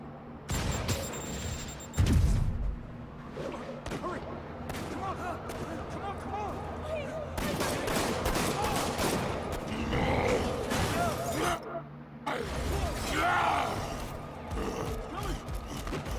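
Gunfire in the Spider-Man video game during a street shootout around a police vehicle, with repeated shots and booms over a busy mix of game effects, while voices talk over it in places.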